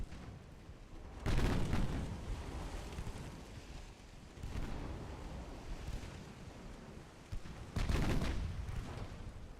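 Naval guns firing in Ultimate Admiral Dreadnoughts, heavy booming salvos that roll out in three broad bursts over a constant ocean-like rumble, fairly distant and with no talking.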